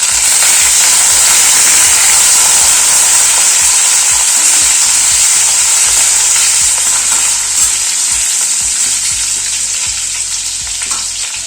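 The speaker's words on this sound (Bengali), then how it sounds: "এবার আলুটা দিয়ে দিচ্ছি।" Potatoes frying for a vegetable sabji in a hot pan with tempered spices, a loud continuous sizzle and crackle close up, with occasional scraping knocks from stirring.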